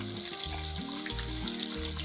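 Chicken fried steak fries in hot, popping grease, giving a close, steady sizzle with crackling pops and some clattering, heard alone.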